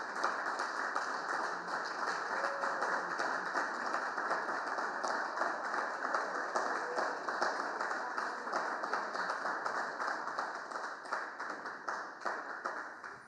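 Sustained applause from an audience at a music competition finals, honoring contestants and winners; dense, steady clapping fills the whole stretch, loud and even, tapering slightly at the end.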